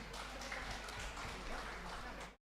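A congregation at an HKBP church Sunday service and harvest festival breaks into faint, dense applause with a steady, even patter, then it stops abruptly.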